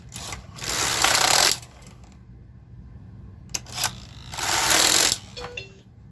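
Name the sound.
knitting machine carriage knitting across a row of sweater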